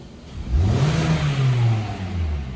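A Kia Optima engine revs up when given gas, the pitch rising smoothly, holding, then easing back down; a steady, fairly loud mid-range drone close by with no talking.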